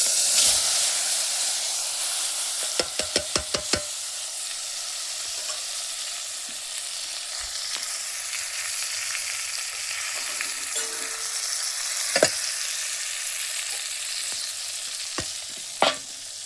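Hot oil with turmeric sizzles steadily as eggplant fries in a pan over a wood-fired clay stove, a close, continuous hiss with a burst of rapid clicks early on and a few sharp knocks later, no voices.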